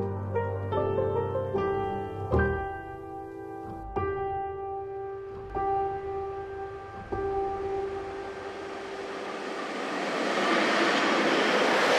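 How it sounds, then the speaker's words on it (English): A train ride in Poland toward Treblinka, with steady rolling rail noise and a series of sharp clanks and knocks over the first seven seconds, then a broad rushing hiss swelling louder toward the end. "Next on this journey is a train ride to Treblinka"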